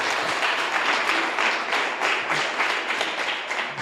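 A church congregation applauds together at an evening service, a dense, steady wash of many hands clapping with rhythmic surges, filling the room throughout.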